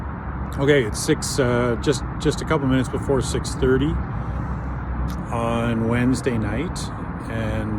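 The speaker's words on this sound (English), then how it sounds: "I apologize for the traffic noise." Road traffic rumbling past under a nearby bridge at a quiet rural waterfront spot, a steady low roar beneath someone speaking close up throughout.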